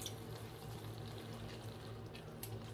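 Water running from a tap or being poured into a cooking pot of caramelized onions for a chicken meatball stew, a steady faint splashing stream that continues for the whole stretch.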